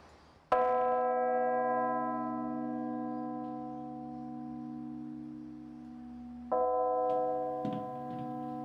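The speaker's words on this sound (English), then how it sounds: "it's got a beautiful slow toll which goes like this" A church bell tolls slowly, two loud strikes several seconds apart, each ringing out with a long, humming decay.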